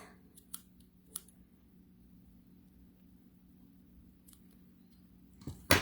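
Scissors trim excess paper from a handmade stamped card, giving a few quiet, separate snips spread across an otherwise hushed stretch, with a slightly louder cut at the very end.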